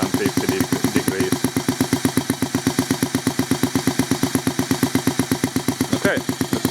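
A homemade four-stroke engine runs at a steady idle, producing a fast, even chugging pulse of exhaust beats, close and loud, with a brief voice near the end.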